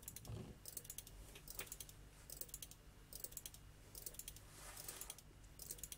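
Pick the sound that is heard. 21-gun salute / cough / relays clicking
relays clicking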